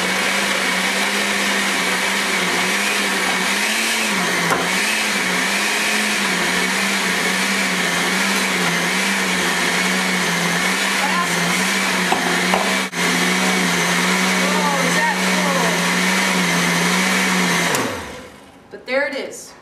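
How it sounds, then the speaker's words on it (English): A blender crushing ice for a green smoothie runs loud and steady for nearly twenty seconds, a constant whirring roar with slight wobbles, then winds down and stops. "So here we go, ice, and the lid, and this blender,"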